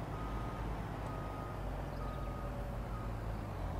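A vehicle reverses in Farming Simulator 19, its backup alarm beeping steadily over a constant low engine drone.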